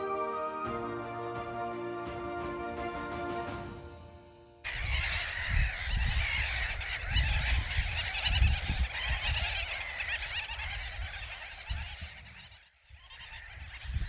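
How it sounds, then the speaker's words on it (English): A lagoon colony of pied avocets, gulls and terns on a delta coast, with honking harmonic calls for a few seconds that give way to a dense, noisy chorus of many birds at moderate loudness. "now there are colonies of pied avocets, gulls and terns"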